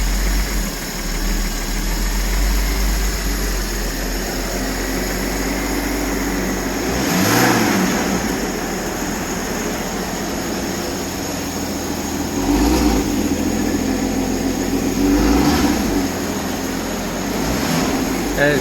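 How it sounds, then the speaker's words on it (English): A flood-damaged Porsche 981 idles roughly at its first startup, a steady low engine drone with uneven surges and a few louder swells, nearby talk faintly underneath. "It's still a little rough, like it's kind of idling a little rough"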